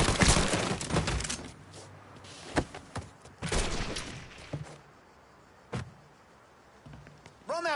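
Bursts of gunfire in the Mafia III video game, several loud sharp volleys and single shots scattered irregularly with quieter gaps between them, up close.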